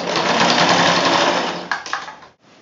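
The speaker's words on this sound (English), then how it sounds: "This might be a little tough for your sewing machine depending on how thick it is" A sewing machine sewing thick fabric runs steadily at speed with a dense mechanical whir, then slows with a few stuttering stitches before stopping.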